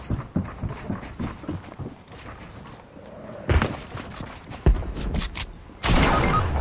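Video game gunfire crackling in rapid irregular bursts, with scattered sharp shots and louder blasts near the end, set against background game noise and no talk.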